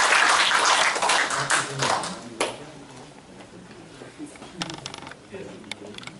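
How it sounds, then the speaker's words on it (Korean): An audience at a civic forum in a workers' culture centre claps to welcome a speaker, a loud burst that fades quickly into scattered claps and taps with some talking. "여러분 환영의 박수 부탁드리겠습니다"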